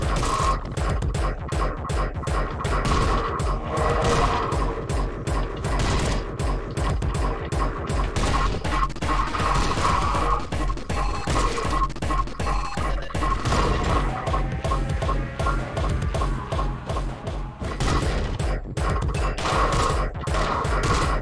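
Gunfire in the Anger Foot video game: a long, dense stream of rapid sharp shots and crashing impacts continues almost unbroken for about twenty seconds, loud and busy, with no speech heard.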